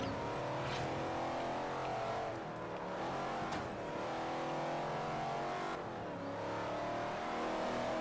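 Race car engines in a Forza Horizon race, the Steel Slam event, drone loudly and steadily with harmonic whine, rising and falling as the car revs and shifts through corners, with brief tire squeal.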